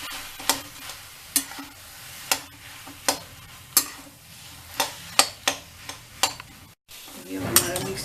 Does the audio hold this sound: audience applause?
no